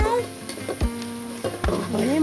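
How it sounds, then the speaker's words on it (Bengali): Spice masala of turmeric and chili powder sizzles as it is sautéed in a pan for a fish curry with tomato and potato, a close frying hiss broken by several sharp stirring knocks, with some tonal background sound. "এবারে মশলাটা আমি বেশ ভালো করে কষিয়ে নেব।"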